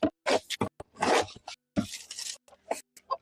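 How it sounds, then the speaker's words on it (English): A scoop or container scraping up the last bit of animal feed, harsh bursts of scratching and crunching in short irregular strokes, close and fairly loud with gaps between. "I'm just scraping up the last little bit of feed"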